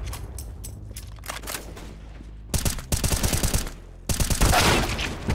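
Counter-Strike: Global Offensive gunfire rattles out in sharp rapid bursts, several loud volleys of shots separated by brief pauses.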